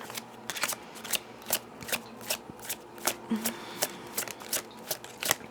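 Cards from an Ostara deck being shuffled, a steady run of crisp riffling bursts close by with no talk.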